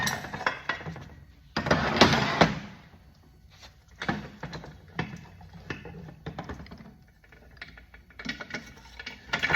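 Metal parts of a Corvette C7 TR6070 seven-speed manual transmission clink and clack as the countershaft is wiggled and pulled out during teardown, with bursts of gear and shaft rattling between quieter pauses, close and moderately loud.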